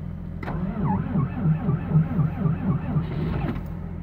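A Timberjack 450 grapple skidder with a small Cummins diesel cold-starts at about minus 12, its starter clicking in, then the engine cranks and chugs in an uneven, rumbling rhythm, with voices faintly present.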